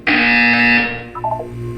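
A loud, harsh electronic buzzer in the video game Portal 2 blares in one sustained burst, then fades into a short descending chime of tones.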